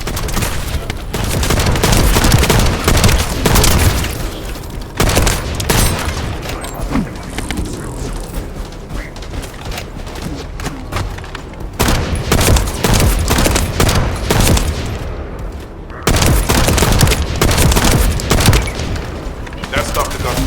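Bursts of video game gunfire fill the space with rapid, loud fusillades and heavy booms. They come in waves separated by brief lulls, with voices speaking intermittently among the shots.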